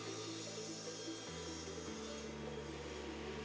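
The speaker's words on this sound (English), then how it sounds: "To cut the boards to length, I'm using my miter gauge with the stop block." A table saw cuts a wooden board to length using a miter gauge and stop block, a steady motor hum with the blade load shifting in pitch partway through as the cut progresses, no talking.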